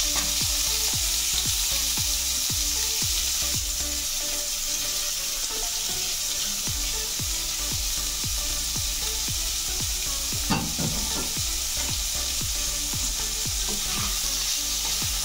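Large cubed onion pieces sizzle loudly in a hot pan for moong dal, a continuous dense frying hiss broken by repeated scraping strokes of a spoon stirring at a steady rhythm, with no talking.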